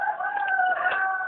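A rooster crows once, close by, a short bright call with a strong tonal wail over a quiet background.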